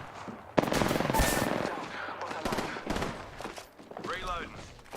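Automatic gunfire bursts in Apex Legends, several sharp volleys scattered through a few seconds with a voice talking over the shooting.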